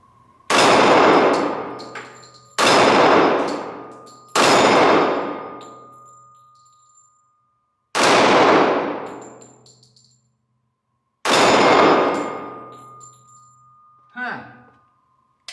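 Five loud shots from a Springfield XDM Elite Compact .45 ACP pistol at an outdoor range, each a sharp crack with a long decaying tail, spaced a couple of seconds apart, with no clear ring of steel; a voice speaks briefly at the end.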